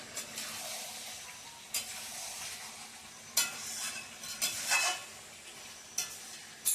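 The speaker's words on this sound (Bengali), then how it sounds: "এবার কষাবো ভালো করে।" Meat and spices sizzle softly in hot oil as they are stir-fried for biryani, with a quiet steady hiss broken by sharp scrapes and clinks of a spatula against the pan.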